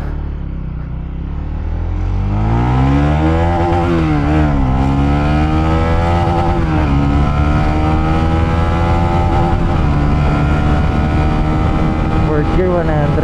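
A Honda Winner X motorcycle engine revs up and settles into a loud, steady drone as it rides, pitch rising and falling with the throttle and gear changes.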